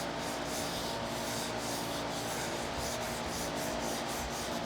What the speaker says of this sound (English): I'm just letting the sandpaper do the work here. I don't want to press too hard.